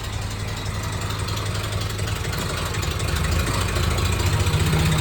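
A cheap, worn-out truck engine running at a rough idle after being restarted, a steady, close rumble with an uneven knocking throb and no talk over it.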